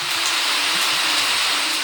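Rain falls steadily as a dense, even hiss throughout, close and continuous with no voices.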